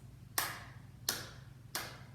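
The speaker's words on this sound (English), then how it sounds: "So we'll clap 3 times" Three sharp hand claps ring out at a steady, even pace during a children's storytime sing-along. They are fairly soft and close, with near silence between each clap.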